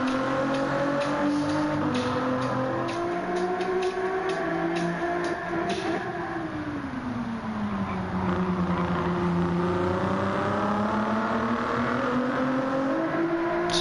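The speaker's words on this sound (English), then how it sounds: "One of the best sounding Group 3 cars in the game." A Group 3 race car engine in Gran Turismo 7 drones and revs continuously, its harmonic pitch dipping and rising again through gear changes, loud and up close with no talk.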